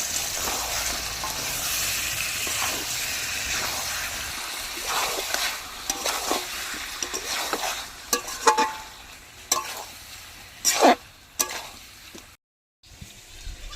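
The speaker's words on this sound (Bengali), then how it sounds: "এবার নাড়িয়ে চাড়িয়ে কষিয়ে নেব মশলার সাথে" Prawns and fresh pointed gourd are stirred and fried with masala after coconut milk goes in, with a soft sizzle and intermittent spatula scrapes and knocks that grow sharper toward the end before a brief silence.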